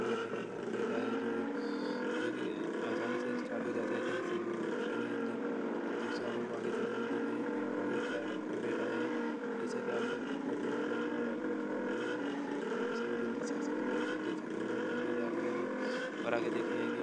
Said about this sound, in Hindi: ट्रेन इंजन चालू है